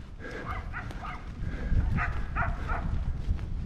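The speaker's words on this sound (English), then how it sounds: "There's a couple dogs," Several penned dogs bark in short bursts at a moderate distance near pastures, a few clusters of yips and barks over steady outdoor ambience.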